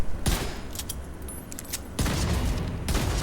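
Video game gunfire from The Division 2: sharp, loud shots crack out in a couple of bursts with reverberant booms between them, including a strong blast near the middle.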